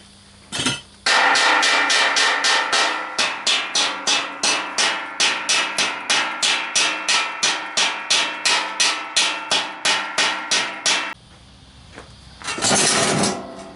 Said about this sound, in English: what I'm going to do now is chip it off with a chipper